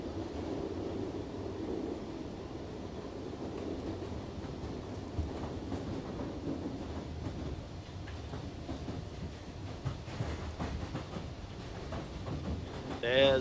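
A train in The Outlast Trials rumbles along its rails with a low, steady rolling drone and occasional faint clatter. The sound stays fairly quiet throughout, with a few brief thumps near the end.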